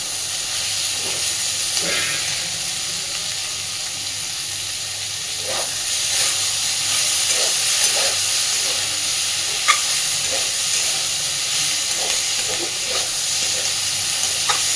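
Thick-cut onions frying in fish fat in a pan, a steady broad sizzle and hiss with occasional spatters and stirring clinks, fairly quiet and continuous without talk.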